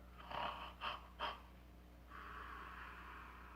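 A man imitates an aggressive snore with his voice, giving three short rasping snorts followed by a longer drawn-out breathy rumble, quiet and close.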